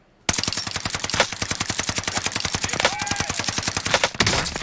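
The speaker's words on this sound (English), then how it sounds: "That's almost 2 magazines of whatever they're shooting them with." Sustained automatic gunfire in a first-person shooter video game, a rapid, steady stream of loud close shots lasting several seconds with a brief pause near the end, no talk over it.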